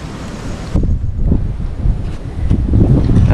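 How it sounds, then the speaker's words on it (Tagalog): Strong wind gusting against the microphone at night, a dense low rumble with a buffeting roar that swells and stays loud throughout, with no voices. "malakas ang hangin kaya maraming mapadpad na Dahon"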